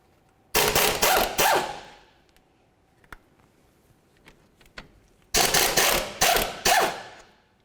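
Two loud bursts of rapid impact-wrench rattling, each a few seconds long with short stutters, loosening the pair of 17mm bolts holding the front brake caliper bracket to the knuckle on a 2004-2006 Scion xB, with quiet clinks between.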